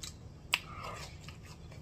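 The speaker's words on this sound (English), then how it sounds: "Cause y'all hear that crunch." Crunchy bite of fried catfish while eating, one sharp close crunch followed by softer chewing.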